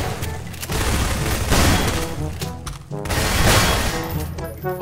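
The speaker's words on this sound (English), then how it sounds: "I hear all these gunshots, I'm scared." Rapid gunfire from a Garry's Mod Prop Hunt match, dense loud bursts of shots overlapping with crashes and breaking sounds throughout, continuous game chaos with little pause.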